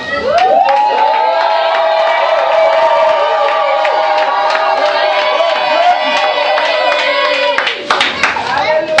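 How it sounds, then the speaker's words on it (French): A crowd shouts and cheers loudly with joy, voices rising together in a sustained roar with clapping mixed in. "Est-ce qu'on peut pousser des cris de joie?"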